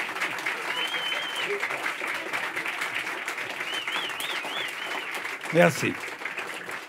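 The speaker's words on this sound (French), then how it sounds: "faire enchaîner par applaudissement les trois rappels d'un seul coup" Sustained concert audience applause calling for encores fills the space, with a few whistles over the clapping and a brief spoken word near the end.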